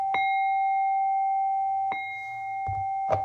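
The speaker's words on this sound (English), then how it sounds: "let's ring the chimes on that." Bright metallic chimes ring out, a sustained tone struck again twice more, each strike leaving a long shimmering decay in an otherwise quiet space.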